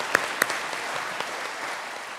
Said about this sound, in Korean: 거기다 박수 한번 쳐주세요